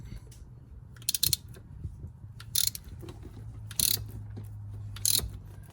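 Ratchet on a socket turning a pulley bolt on a Porsche Boxster or Cayman, four short bursts of sharp clicking ratchet pawl sound over a low mechanical hum, close and fairly quiet, with no voices.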